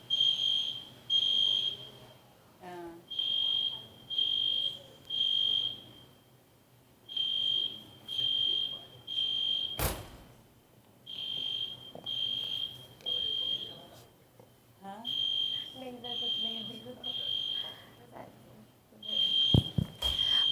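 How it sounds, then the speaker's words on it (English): A fire alarm beeps loudly in repeated bursts of high-pitched tones with short gaps, sounding through a venue during an esports event while a voice briefly speaks. "I think it's a fire alarm."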